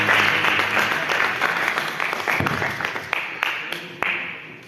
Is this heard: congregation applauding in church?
yes